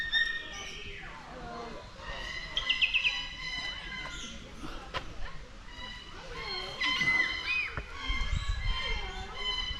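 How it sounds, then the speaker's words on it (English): Macaws and cockatoos calling at Parrot Mountain bird park in Pigeon Forge, repeated bright squawks and chirps at mid distance over a busy crowd, with people talking throughout. "Lots of macaws, lots of cockatoos."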